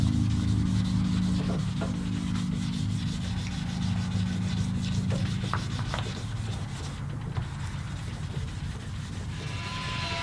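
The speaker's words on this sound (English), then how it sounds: "starting at 1500 grit, I'm going to wet sand this body" Wet sanding a guitar body by hand with a sanding block and 1500 grit paper, a steady close rubbing swish that runs continuously without talk, heavier and lower in the first half.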